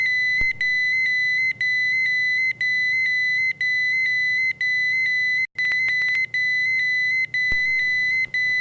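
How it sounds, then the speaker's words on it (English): A Honeywell MultiPro gas detector alarm emits a loud, continuous high-pitched electronic tone broken by brief regular gaps about once a second. "The alarms should activate."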